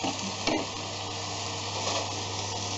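Wooden spoon stirring flour into beef juices in a pan, a steady close sizzle with scraping strokes and a brief louder scrape, no talking.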